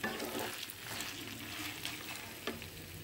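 Rice for Kashmiri pulao is sautéed and gently stirred in a pan, giving a soft, steady sizzle with faint scraping strokes, quiet and close, with no voices.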